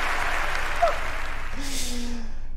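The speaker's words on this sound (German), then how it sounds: "ab und zu könnte man sich einfach mal selbst Applaus machen" A stretch of clapping from a small group during a German live stream, steady and continuous for a couple of seconds, fading at the end.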